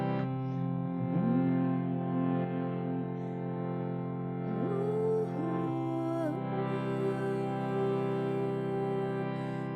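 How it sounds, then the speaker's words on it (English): A group hums together during a guided meditation, sustained droning tones layered in chorus with gentle pitch glides and swells, steady and continuous in a reverberant room. "we're going to begin with a little humming"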